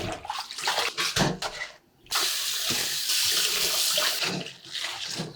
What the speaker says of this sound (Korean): 이제 깨끗하게 헹궈 볼게요